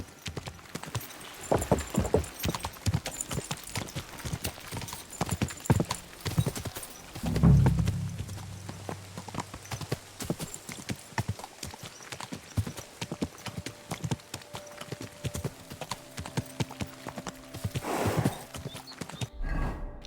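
Horse hooves pound rhythmically in a fast gallop in the video game Kingdom Come Deliverance 2, close and steady throughout, with occasional snorts and a brief whinny midway.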